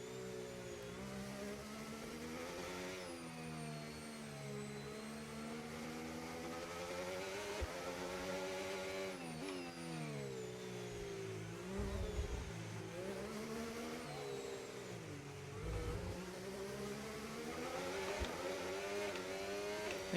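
A race car engine drones continuously while lapping a Miami circuit in a racing video game, the whining pitch climbing and falling through gear shifts and corners over twenty seconds, with no talk.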